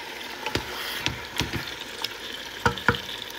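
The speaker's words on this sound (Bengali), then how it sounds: "মাংসটা একটু কষিয়ে নিই আমি প্রথমে।" Beef being sautéed in a pan, with a soft sizzle and repeated clanks and scrapes of a utensil stirring the meat in irregular bursts.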